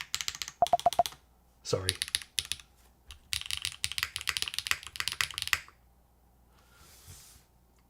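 Typing on a Glitter65 mechanical keyboard fitted with a Cherry spacebar, bursts of crisp, close keystrokes in quick runs with short pauses, with a brief spoken word between them and a faint rustle near the end.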